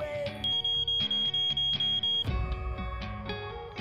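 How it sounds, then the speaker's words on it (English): A pager beeps in a fast, regular series of high electronic pulses close by, layered over a busy music and sound-effects track from the Doogie Howser M.D. television show. "My beeper."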